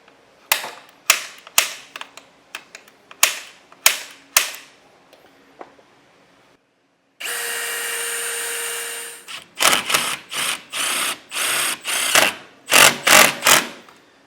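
Impact driver sinking a self-tapping screw into a plastic flange on a 2015 Keystone trailer, sharp clicking bursts, a brief steady whir, then rapid loud hammering pulses in short runs.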